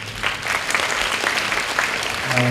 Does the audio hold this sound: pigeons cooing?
no